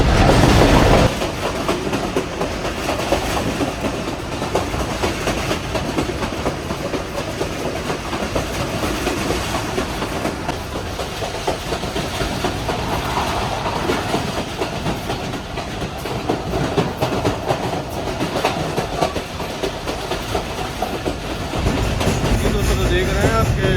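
The Millat Express rumbles along the rails between Lalamusa and Karachi, heard from inside the train as a loud, continuous broadband roar with faint wheel clatter that holds steady throughout.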